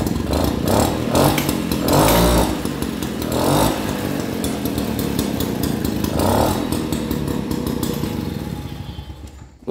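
The engine of an old moped runs loudly up close with a raspy two-stroke buzz, revving up and easing off several times before it fades at the end.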